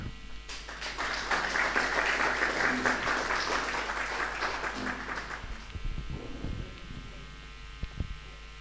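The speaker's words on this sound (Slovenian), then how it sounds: "še enkrat en velik aplavz" Applause from an audience at the Kosmatinec 2024 award ceremony, a dense burst of clapping that swells for about five seconds and then thins to scattered claps and room noise.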